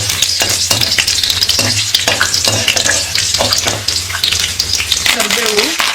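Finely chopped garlic frying in a pan makes a busy sizzle, broken by repeated scrapes and clinks of a stirring spoon against the pan.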